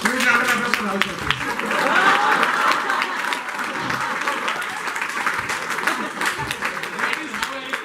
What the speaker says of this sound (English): This huge round of applause for Rahul Shroff.